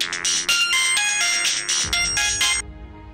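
A mobile phone ringtone plays loudly and alone, a repeating bright melodic tone pattern that runs for about two and a half seconds before stopping.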